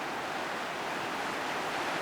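Steady broadband rush of the French Broad River flowing past a riverbank near its mountain source, a continuous, fairly close wash of moving water with no voices.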